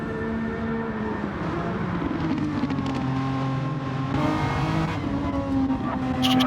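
A Renault Megane racing in a racing video game at Dragon Trail Gardens, its engine droning steadily at high revs with pitch shifting through gear changes and light tire noise, with no talk.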